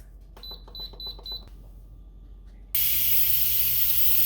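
An Instant Pot beeps in a quick series of five chirps, then a short gap, then a loud, steady hiss of escaping steam comes in abruptly and holds to the end.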